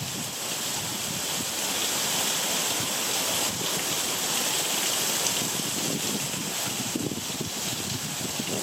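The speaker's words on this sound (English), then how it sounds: "That's the waterfall there." Continuous broadband rushing of falling water, a steady roar with wind buffeting the microphone, no voices.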